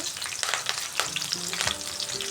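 Grated garlic, ginger and curry leaves hit hot oil in a pan for a rohu fish curry, crackling and spitting in a loud, dense sizzle throughout.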